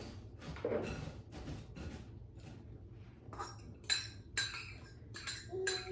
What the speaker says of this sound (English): I have to grab a big spoon. Or a fork.